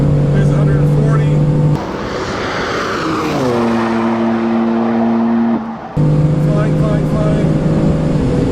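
A 2015 BMW M3/M4 engine roars at full throttle on the Road America race track, loud and close, pitch holding steady, dropping with a gear change and climbing back up, with talk over it.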